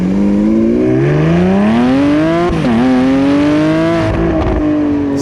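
A Lamborghini Aventador SVJ engine accelerating hard, its loud, close V12 roar climbing through the revs, dipping sharply at a gear change, then rising again before easing off.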